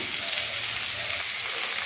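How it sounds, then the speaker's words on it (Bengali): Onions frying in a kadai, a steady close hiss and crackle of hot oil that stays even throughout with no talking. "কড়াইতে পেঁয়াজ দিয়ে দিয়েছি, পেঁয়াজটা এই যে ভাজা ভাজা করে নেব।"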